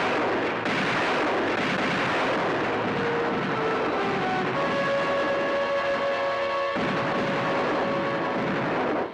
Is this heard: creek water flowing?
no